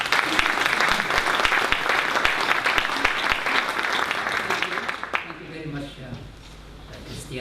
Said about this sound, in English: And let's give him a round of applause.